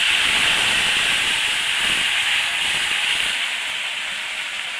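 Steady loud hiss of ginger, garlic, onion and tomato paste sizzling in hot oil for a fish curry, a continuous broadband sizzle that eases slightly toward the end, with no talking.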